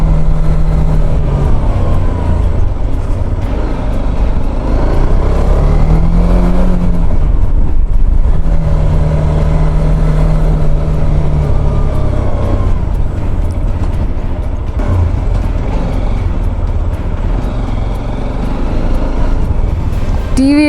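A TVS Apache RTX motorcycle accelerating hard to overtake on a hill road between Shimla and Kufri, its engine note rising and falling through several surges, loud and close over steady wind rush.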